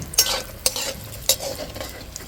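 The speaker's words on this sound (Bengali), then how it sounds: "একটু লাল লাল করে ভেজে নেব" Lentil dumplings (bori) fry in oil with a steady close sizzle, broken by several sharp spatula scrapes and clinks against the pan as they are stirred.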